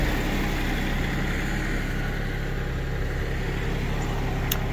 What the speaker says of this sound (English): got it loaded up in the tractor bucket. Now we're gonna dump